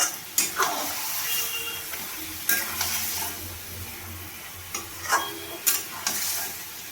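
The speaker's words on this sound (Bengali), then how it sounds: "এবার চিকেনটাকে ভালোভাবে কষিয়ে নিয়ে আমি ঢেকে দেব।" Chicken is stir-fried in a pan without water for a quick home-style recipe, giving a steady sizzle broken by several sharp scraping stirs of the spatula at irregular intervals, close and clear with no talking.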